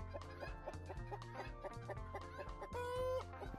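A hen clucks repeatedly in a quick rhythmic series, close and clear over a steady hum of background sound.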